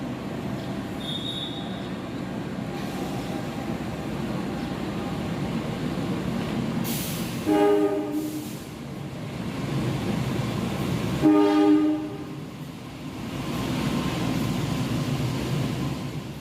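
A Serayu night passenger train in Indonesia rumbles steadily along the tracks, with two brief squealing wheel screeches rising over the constant low roar.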